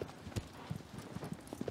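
Horse hooves clopping at an easy, uneven gait across ground in Shadow of the Colossus, a run of soft close hoofbeats at low volume.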